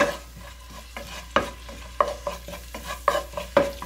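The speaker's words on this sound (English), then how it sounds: "let's just stir this up" Spatula stirring ginger and garlic frying in a pan, with a low sizzle under a series of sharp scraping, clinking strokes, roughly one every half second, close and fairly loud, no talking.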